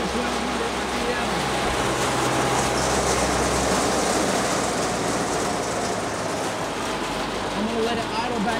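A Bandit 150XP wood chipper engine runs as a loud, steady, close drone that settles toward idle without any break.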